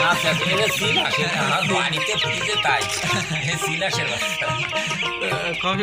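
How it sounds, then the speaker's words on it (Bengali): Chickens cluck and call continuously in a dense, busy chorus inside a chicken farm where a duckling is kept among the hens, with overlapping voices filling the whole stretch. "এইটা হচ্ছে মুরগির ফার্ম"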